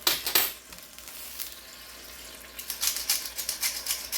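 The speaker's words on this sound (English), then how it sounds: "I can hear them sizzling, so let's turn the heat down" Steady hissing sizzle of Salisbury steaks frying in a hot pan, with crackling pops growing busier toward the end.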